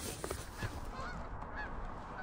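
Geese honking as a flock drops into a fresh-cut corn field, faint distant calls scattered over steady wind and field noise.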